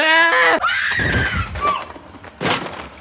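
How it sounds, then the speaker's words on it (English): In The Blair Witch Project, a woman lets out a loud, shrill scream that breaks off abruptly, followed by rough, broken vocal noises and a final burst. "Heather screams, "Stop," and the 16mm camera falls to the ground, jittering"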